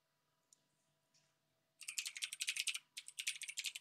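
Rapid, crisp keystrokes on a computer keyboard as a folder name is typed on a Windows 11 PC, close and clear, coming in two quick bursts after a couple of faint clicks, with no talking.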